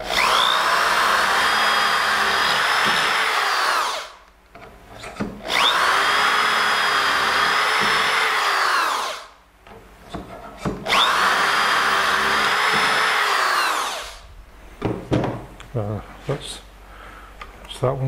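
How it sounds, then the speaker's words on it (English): A power drill bores into wood for a raised-panel furniture joint in a workshop, running loud and steady in three long passes of about four seconds each, separated by brief pauses and followed by clattering handling. "And then we're going to drill"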